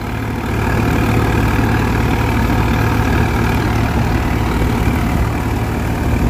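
A tractor engine runs steadily while pulling a harvesting reaper in a dusty field, a continuous loud, low rumble that holds without a break.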